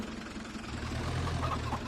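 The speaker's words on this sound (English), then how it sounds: "I'll leave the tractor here." A tractor engine idles steadily in Farming Simulator 25, a continuous low, throbbing rumble held at an even, moderate level for about two seconds with no one speaking.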